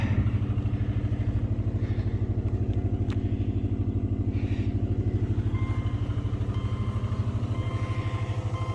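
An old engine idles steadily with a loud, continuous clacking rattle, a rhythmic mechanical ticking running under the low exhaust drone for the whole stretch, close and unbroken, with no talking.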